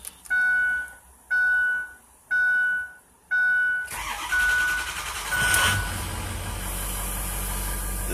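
A series of warning chimes sound in a regular pattern, then the diesel engine of a lifted 2005 Ford F-350 Super Duty pickup cranks and fires up into a loud, rattling idle.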